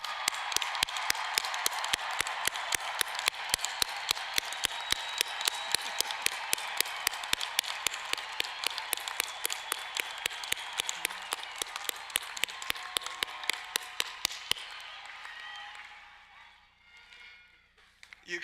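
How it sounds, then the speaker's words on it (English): A large graduation ceremony audience applauds and cheers at length, dense steady clapping across the hall that thins and fades out near the end. "let's give this remarkable class a big round of applause"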